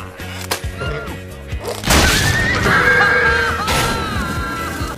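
A horse neighs loudly in the animated film Tangled as it skids to a sudden stop, the whinny rising over crashing, splintering impacts and dramatic film score, close and intense.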